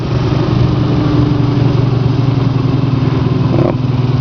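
A stout little half-horsepower electric motor drawing 8.5 amps runs at a steady, close, loud hum with an even drone and no change in pitch throughout.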